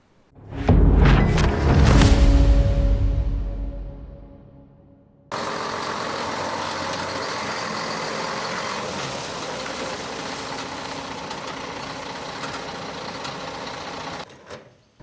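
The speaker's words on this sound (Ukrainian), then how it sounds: "Машина з продовольчою допомогою для переселенців прибула в Южне." Truck carrying food aid pulling in, a loud rumbling arrival that fades, then a steady even engine idle for about nine seconds before cutting off.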